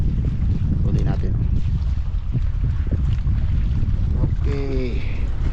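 Strong wind roaring over a fishing boat at sea, a constant loud rushing blast filling the scene, with brief faint creaks or calls and distant muffled voices underneath.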